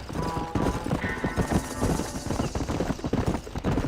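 Horse hooves gallop in Red Dead Redemption, a fast, loud, close clip-clop rhythm that runs steadily throughout with faint voices mixed in.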